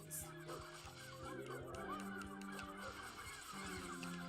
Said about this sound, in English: Now they sound like seagulls.